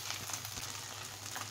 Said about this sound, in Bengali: এখন মাছ, মাংস, রসুন, পেঁয়াজ দুটাকে আমি সুন্দর করে একদম লাল লাল করে ভেজে নেব